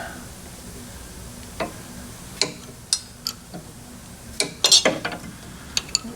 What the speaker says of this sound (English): Assuming I don't break my thread chaser off in it.